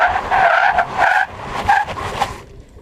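A Toyota Land Cruiser 300 brakes hard, its tires skidding and squealing loudly and nearby in a long, wavering screech that fades out after about two and a half seconds.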